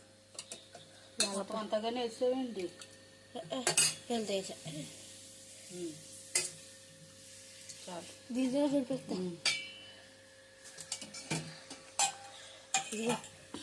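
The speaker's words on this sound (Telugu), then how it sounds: "మా అబ్బాయి ఏమో అల్లం చట్నీ కలుపుతున్నాడు" Utensils clink and scrape against a dish while ginger chutney is mixed, in scattered bursts of light metallic taps, with people talking nearby over the clatter.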